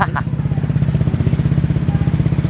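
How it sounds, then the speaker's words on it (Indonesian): A Honda PCX 160 motorcycle with a Ducati-style switch, in a custom City Runner build, idles after starting, its engine thumping in a rapid, even pulse, close and loud. "Oke, jadi sekarang motor udah nyala."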